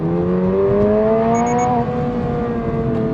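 A Toyota GR86 manual sports car pulls hard under acceleration, its engine note rising steadily and loudly up the revs, with a brief gear-change dip before the pitch climbs again.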